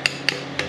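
A slide hammer strikes three times in a sharp metallic rhythm, pulling a check valve from a 4L60E transmission case during a rebuild, each clank crisp and close with no voices.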